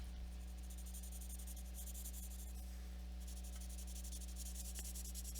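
Pencil shading a one-point perspective drawing, a faint steady scratchy rubbing of graphite on paper, quiet and close over a constant low electrical hum, with no talking.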